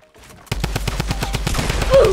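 Fortnite gunfire rattles in a rapid, steady automatic burst, about a dozen evenly spaced loud shots starting after a short quiet lead-in.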